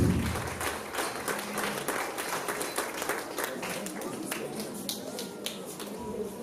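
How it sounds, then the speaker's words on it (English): Audience at a parents summit in Port Harcourt clapping for an author discussing her book, a loud start easing into steady, lively applause with distinct individual claps that carries on for several seconds. "Are we tired of clapping?"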